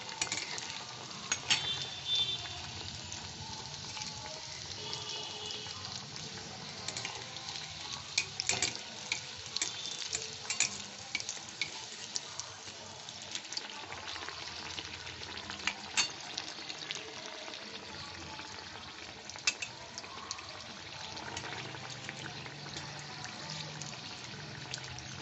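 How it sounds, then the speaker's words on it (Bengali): Mini Moghlai paratha deep fries in hot oil, producing a soft, continuous hiss dotted with small irregular pops and crackles, fairly quiet and steady with no speech. "এইবার এটা হালকা করে ধরে আমি এই তেলে দিয়ে দিচ্ছি।"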